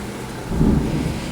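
A thunderstorm's deep, low thunder rumble swells about midway through and rolls on steadily, heavy and close-sounding, with no voices over it.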